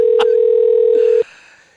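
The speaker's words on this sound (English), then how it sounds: "We are going to switch and call him back on Skype" A Skype call tone sounds as one steady, loud electronic beep lasting just over a second, with a brief click near its start, then cuts off into quiet room noise.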